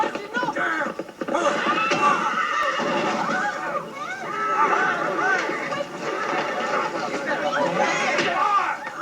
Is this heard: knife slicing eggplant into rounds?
no